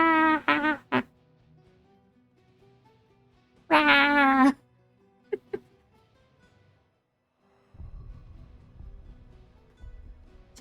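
A pet cat gives a few loud, close, drawn-out meows in separate bursts with quiet gaps between them, followed by faint low rustling near the end.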